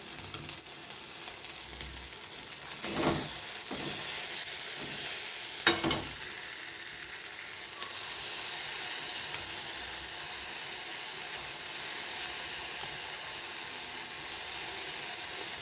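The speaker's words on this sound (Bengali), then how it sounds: "এবারে আমি ভালো করে ভেজে নেব।" A ground green pea and fennel paste fries in a pan with a steady, close sizzle for the whole stretch, broken by a few brief stirring scrapes.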